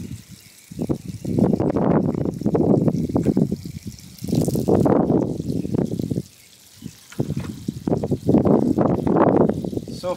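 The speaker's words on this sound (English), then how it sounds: "So we got a little bit of water in here" Water trickles and gurgles into a PVC chicken waterer in uneven bursts, fairly loud and close, with two short quiet pauses between the flowing stretches.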